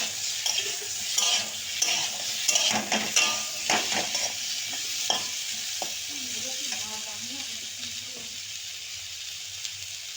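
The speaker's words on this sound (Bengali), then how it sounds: "এখন আমি আলু আর ফুলকপি ভেজে নিচ্ছি" Potato and cauliflower fry in a pan with an even, close sizzle, punctuated early on by clattering stirs and scrapes of a utensil against the metal.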